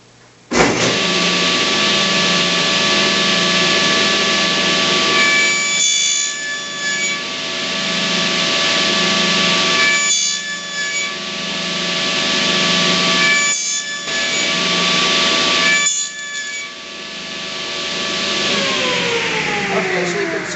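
A saw cuts a row of kerfs into wood, a loud rasping run of strokes broken by several short pauses between cuts, with a steady motor hum behind it.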